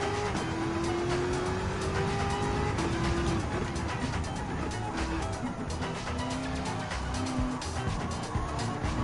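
Ferrari Enzo racing in Gran Turismo 7, a continuous engine drone with rising and shifting tones as gears change, accompanied by tyre squeal and constant racing game noise at a steady, loud level.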